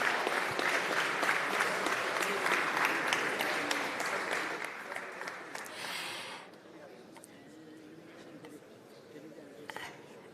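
Sustained applause from a conference audience cheering panelists at the closing session of the OPEC Fund Development Forum, dense and steady for several seconds before fading into room noise with a few last claps.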